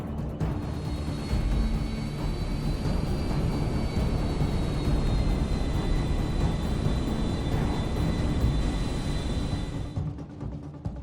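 A heavy airplane roars through a troubled takeoff, struggling too slowly near a residential neighborhood. A loud, steady, broadband engine roar holds for about ten seconds before cutting off abruptly.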